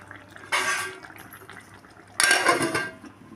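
A cooking pot of potato and pointed gourd curry with a little water is handled with its lid, two separate metallic clatters about a second and a half apart, each ringing briefly before fading, close by with no talk.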